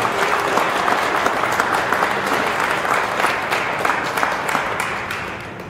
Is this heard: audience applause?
yes